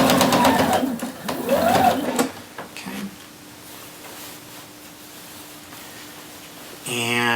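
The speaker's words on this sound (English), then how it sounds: "we're just going to sew across the corner without catching the collar section" A sewing machine stitches across the corner of a shirt collar in a loud, fast mechanical run that stops abruptly, then leaves a quiet low hum before a short burst of stitching starts again at the end.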